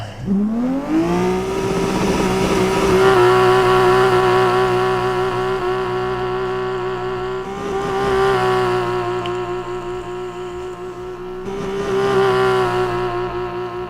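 Loud car engine in the Undrift video game, a sustained droning roar that climbs in pitch at the start, then holds steady with two more surges in revs, with no talk over it.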